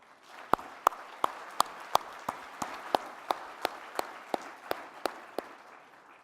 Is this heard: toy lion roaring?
no